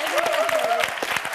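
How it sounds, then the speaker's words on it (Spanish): Studio audience applause on a Catalan TV game show, a steady dense patter of clapping at full strength throughout, with a brief voice-like tone over the first half. "El meravellós aplaudiment del nostre públic."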